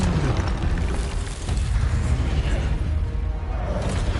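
A fire spell cast in Hogwarts Legacy erupts as a dense, roaring blast that holds steady for several seconds, loud and close, over a busy game soundscape.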